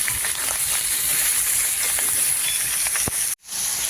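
Ridge gourd frying in oil, a continuous close hiss and sizzle with faint crackles, cut off abruptly for a split second near the end before resuming.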